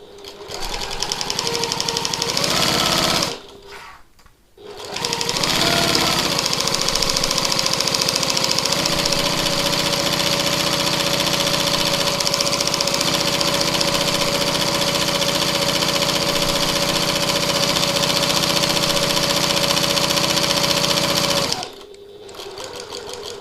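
A domestic sewing machine stitches a piped pocket tote bag, running in a loud, continuous mechanical whir for long stretches, with a brief pause near the start and another stop near the end.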